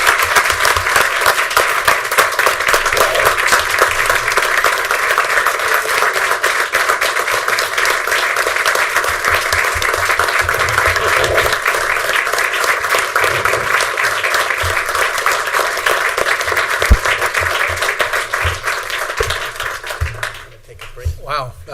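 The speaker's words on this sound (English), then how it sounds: "thank you very much for the applause" Sustained audience applause at a Paris Union High School District board meeting, dense steady clapping filling the room for about twenty seconds before tapering off abruptly near the end.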